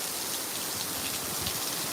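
Very heavy rainfall lashes a parking lot, a thick, unbroken roar of drops striking the ground nearby, steady in level throughout with no voices.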